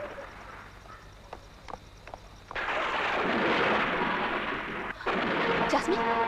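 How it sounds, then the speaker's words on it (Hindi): A thunderstorm in an old Bollywood horror film scene: a quiet opening with a few sharp cracks gives way to a sudden, loud, sustained rush of rain and rumbling thunder that briefly dips and then surges back, with voices early on. "एक बहुत बड़ा तूफान आया"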